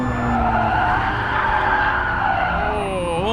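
Race car tires skid and squeal through a corner in a sim racing game, a loud continuous screech with engine noise beneath, rising in pitch near the end.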